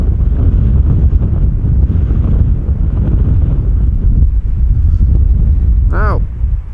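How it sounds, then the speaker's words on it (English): Steady wind gusts across the microphone at Amsterdam Schiphol Airport, a continuous loud rumbling buffet with a short whistling chirp near the end. "got the impression that the wind is actually picking up a little bit"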